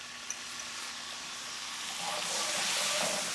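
Capers and their brine poured into a butter sauce in a pan, a soft, faint hiss that swells into a fuller steady sizzle in the second half, close and without talk.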